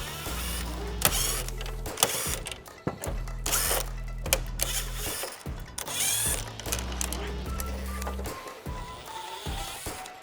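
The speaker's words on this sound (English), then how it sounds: "you're just gonna wanna go ahead and unscrew all of those around the grill" A power tool whirs in repeated bursts of several seconds each while Torx screws are backed out around the grille of a 2.5 Gen Tacoma (2012–2015), close and loud, with brief clicks between runs.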